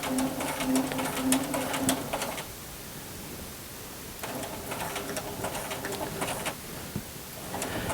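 A sewing machine stitches straight down the side seam of a duffle bag, its steady mechanical whir running for a couple of seconds, pausing, then resuming.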